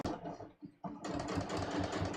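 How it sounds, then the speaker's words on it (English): A sewing machine runs steadily, stitching along the fold of a pair of jeans. After a brief start and a short pause, a continuous close mechanical whir carries on, with no talking. "I'm just going to stitch right along the fold"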